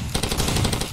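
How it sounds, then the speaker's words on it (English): Rapid automatic gunfire in the video game Far Cry 2, a dense burst of roughly eight quick shots in a steady rhythm, loud and close, lasting under a second. "Wait a minute, somebody's shooting, but pretty much not at me."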